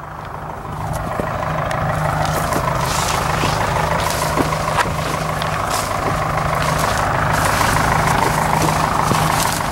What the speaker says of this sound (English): You can't see the truck, but it's back there. You can hear it.